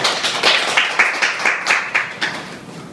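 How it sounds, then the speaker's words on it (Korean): Roughly eight separate, fairly loud claps in a loose rhythm from a small audience at a developer talk on real-time server-client communication, welcoming the next presenter. "박수 부탁드립니다"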